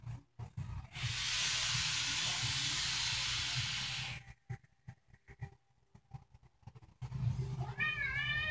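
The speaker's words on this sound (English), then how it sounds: "I got a shop kitty." A small cat in a workshop lets out a short, rising meow near the end. Before it, a long breathy exhale hiss and scattered clicks and handling noise fill a quiet room.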